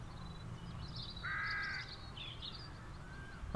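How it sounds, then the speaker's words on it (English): A large bird in the video game Rakuen gives a few harsh caws over a quiet ambient game backdrop, one call sustained and louder in the middle. "Wow, that's a big bird."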